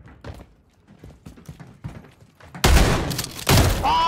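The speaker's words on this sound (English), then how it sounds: "Oh, I missed my shotgun shot." Shotgun blasts in a competitive ranked first-person shooter game: two loud, sharp shots near the end, each with a long noisy tail, after a stretch of quieter game footsteps and clatter.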